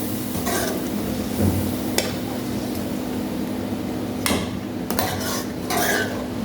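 Spices and yogurt stirred in a pot for a chicken white karahi, a spoon scraping and clinking against the metal in scattered bursts over a steady low hum, with no talking.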